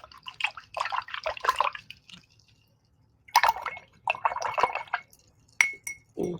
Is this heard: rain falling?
no